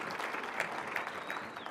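Brief, steady applause from a conference audience at a housing and sustainability summit, even dense clapping heard at moderate distance.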